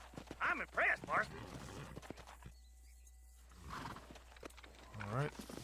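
A horse in the Western video game Red Dead Redemption neighs and snorts in a few loud bursts near the start, falls silent, then whinnies again at the end, with clip-clopping hooves mixed in.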